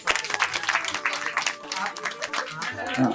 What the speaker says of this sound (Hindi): लोग तालियां बजा के